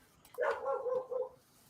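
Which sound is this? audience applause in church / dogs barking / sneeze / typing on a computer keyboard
dogs barking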